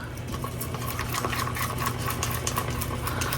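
A vacuum chamber pump runs continuously at a steady, moderately loud hum with a rattling mechanical texture and faint bubbling, unbroken throughout.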